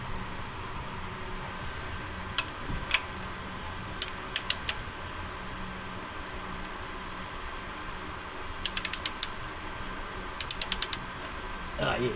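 A ratchet tightens the oil drain plug on a 2024 Nissan Z, producing quiet, sporadic bursts of rapid clicking over a soft background hum, with pauses between the turns.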